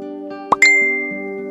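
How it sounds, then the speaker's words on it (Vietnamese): A mobile phone sounds a text message alert, a bright two-note chime that rings out clearly and decays over about a second against a faint sustained tone. "Bỗng nhiên có tiếng tin nhắn điện thoại reo lên."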